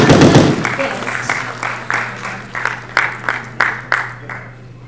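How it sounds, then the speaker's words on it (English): An audience at a blockchain summit in Gujarat claps to welcome an honored guest. The applause starts as a loud burst and thins into a run of sharp, evenly spaced claps over a steady low hum. "Ladies and gentlemen, please put your hands together to welcome our honored guest."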